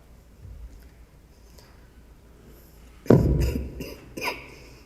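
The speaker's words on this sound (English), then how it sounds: "I'm sorry, I'm having a bad cough" A single bad cough from a conference attendee at a microphone in a quiet hall, one loud harsh burst followed by a smaller second cough.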